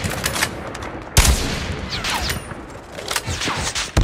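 Video game gunfire crackles in rapid bursts of sharp shots, with a loud crack near the start and volleys continuing throughout, up close.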